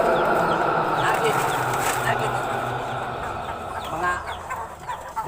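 Chickens cluck and a rooster briefly crows outdoors in a rural village setting, busy overlapping calls at moderate distance while someone talks over them.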